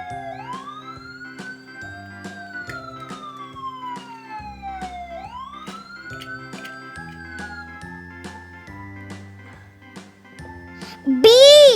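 A toy ambulance siren wails in slow rising and falling sweeps, steady and fairly loud, over light jingling tones and intermittent clicks, ending in a louder burst.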